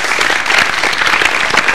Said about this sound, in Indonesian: Terima kasih bagi aplaus sekalian untuk Anda semua.